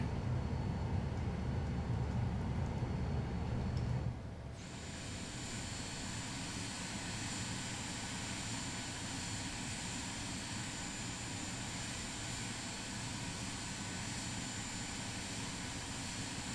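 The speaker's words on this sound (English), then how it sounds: "We'll cut our engines off." Engines of a Vision Jet in the flight simulator MSFS 2024 wind down at shutdown: a loud, steady low roar stops abruptly, leaving a thinner, quieter hum and whine that lingers after parking.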